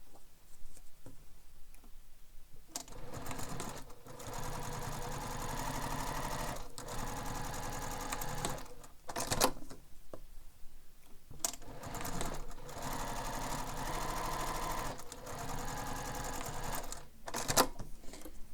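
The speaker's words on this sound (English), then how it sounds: "Now I'm going to top stitch both the long edges of the connector." A sewing machine top-stitches the long edges of a bag connector, running in long steady bursts with short pauses between, close and continuous.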